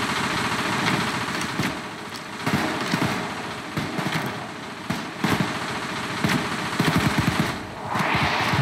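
Pistol fire in Payday 2 cracks out in repeated sharp shots, single and in quick bursts, over a steady background drone of game noise.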